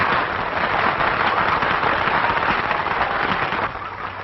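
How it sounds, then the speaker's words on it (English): A theater audience bursts into sustained, dense applause for a composer and the woman who inspired his song, many hands clapping together at a steady roar that tapers slightly near the end, in a 1949 film. "They're applauding the hussy."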